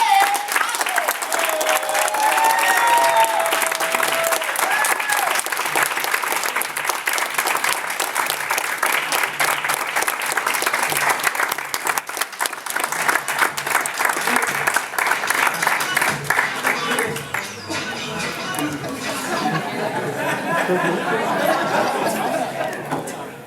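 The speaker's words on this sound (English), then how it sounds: "Now, if we can all give him an applause, Mr. William J." An audience at a real estate seminar applauds a speaker being introduced, a long steady wash of clapping mixed with crowd chatter and a little laughter, thinning toward the end.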